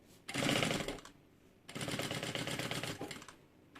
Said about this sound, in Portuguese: E eu vou fazer uma costura com um pé de máquina.